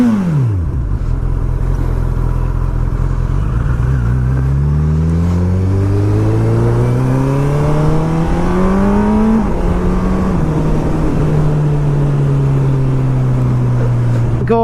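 A 2019 Honda CB1000R Plus fitted with a Termignoni GP2R exhaust, loud and close, its engine note rising through several gears in successive revving pulls, then settling into a steady cruising drone with no voices.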